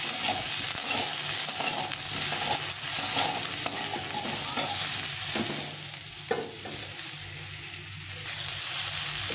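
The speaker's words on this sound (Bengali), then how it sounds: "ফুলকপিটাকে ভেজে নেব।" Cauliflower pieces seasoned with salt and turmeric fry in a pan, a steady sizzle that runs throughout with occasional stirring scrapes and no voices.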